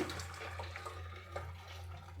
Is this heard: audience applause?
no